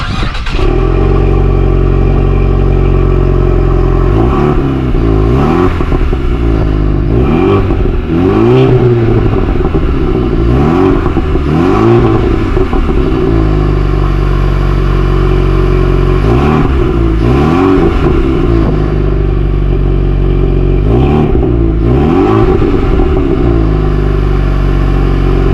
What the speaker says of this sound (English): let me show you the rev of this exhaust system originally from the car